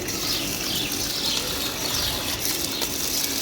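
Water gushes steadily while a flower pot is being watered, a continuous rushing splash at close range with no talk over it.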